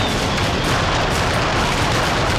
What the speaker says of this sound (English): a series of massive explosions leaves firefighters stunned and sends terrified citizens running for cover